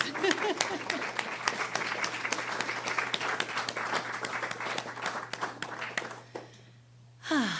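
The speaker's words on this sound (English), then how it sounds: "Let's give Dawn a round of applause" A live audience applauds a performer named Dawn at a service-style gathering, a steady wash of clapping with a low hum underneath that thins out and drops away near the end before a brief burst returns.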